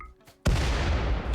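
Gunshots in the RimWorld video game: one sudden loud blast followed by a sustained rumbling burst of fire, heard close and alone after a brief quiet moment.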